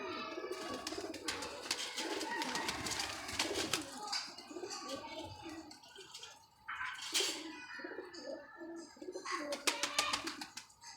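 A breeding pair of pigeons coos in soft repeated phrases, close and fairly quiet, mixed with wing flutters and sharp bursts of rustling and chirps in a sunny loft.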